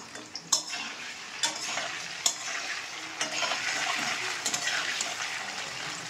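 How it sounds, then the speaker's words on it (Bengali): Paneer pieces fry in ghee in a home kitchen, giving a steady sizzle throughout with scattered sharp clinks and scrapes from stirring in the pan. "পনিরগুলো ভাজছে। এই যে কিসে ভাজছিস? ঘিয়ে ভাজছে।"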